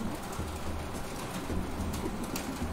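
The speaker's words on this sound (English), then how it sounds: "it's starting to rain now" Steady rain in Dark Souls III patters in a dense, even wash, with soft cooing from birds faintly mixed in.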